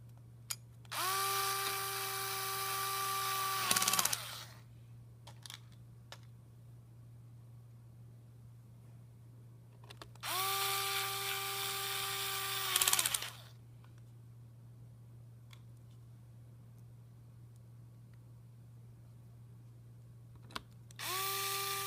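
A small electric screwdriver drives screws into the hinges of a Lenovo Yoga 11e Gen 2 laptop, with two separate whirring bursts of about three seconds each, close and fairly quiet, over a steady low hum and a few faint clicks.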